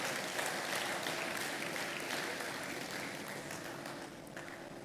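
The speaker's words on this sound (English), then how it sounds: "Please keep clapping." A large conference audience at the Africa Retail Congress 2025 applauds steadily and loudly, the clapping dense and continuous before easing off slightly toward the end.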